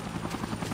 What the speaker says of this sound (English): There's just a big, massive fucking helicopter out there that will gun me down.